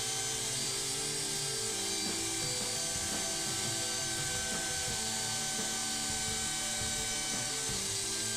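A router guided by a template cuts a 3/4 inch channel for a storm chase dome camera's flange, giving a loud, continuous high whine with a gritty cutting texture that runs unbroken throughout.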